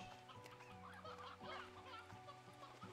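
Chickens cluck in a video game, soft fowl clucks scattered over a steady musical background with low droning tones, faint and without any speech.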